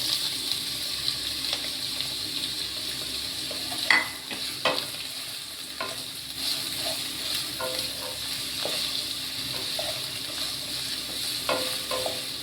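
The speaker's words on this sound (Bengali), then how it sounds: "আলু পেঁয়াজটা ভাজা ভাজা করবো আগে," Potatoes and onions frying in hot oil in a heated wok, a steady loud sizzle with occasional stirring scrapes and clatters.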